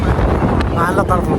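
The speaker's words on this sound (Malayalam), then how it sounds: "നല്ല കാറ്റുണ്ട്" Strong wind buffets the microphone with a steady low roar at Doddabetta Peak near Ooty, while a person speaks over it.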